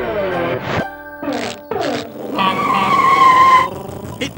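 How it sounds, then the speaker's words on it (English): A cartoon truck arrives at a farm to drop off a box in a children's animation, with a short series of bursts and then a sustained skidding screech as it pulls to a stop. No one speaks. "The truck's dropping it off."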